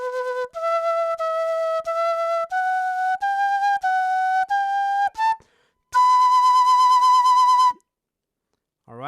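A breathy quena flute melody from El Condor Pasa, sustained clear notes stepping upward one by one, then a long held high B, played solo and close.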